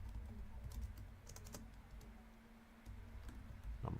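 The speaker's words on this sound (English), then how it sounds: "I'm going to type these out." Quiet typing on a computer keyboard in a room, with soft, irregular clicks in short bursts and brief pauses against a low background hum.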